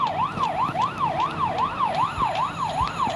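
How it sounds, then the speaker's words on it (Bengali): A police car siren in a video game wails steadily in a fast, regular up-and-down sweep, loud and close, with faint engine rumble beneath and no voices. "এই পুলিশের গাড়ি"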